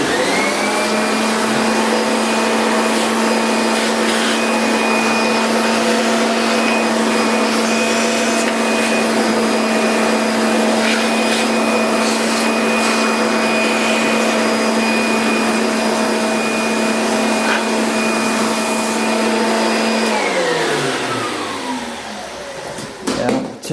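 A vacuum cleaner sucks up cutting shavings during a model aircraft build, running with a loud, steady whine for about twenty seconds before it winds down and stops.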